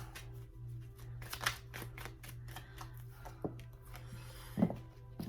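Soft, irregular riffling and flicking of a card deck being shuffled, close by and quiet, with a low steady hum underneath.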